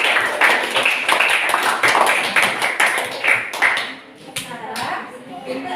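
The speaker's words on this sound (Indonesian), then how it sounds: "Beri tepuk tangan untuk kelompok 3." A group of students in a classroom claps for several seconds, a loose, fairly close patter of hand claps that thins out toward the end.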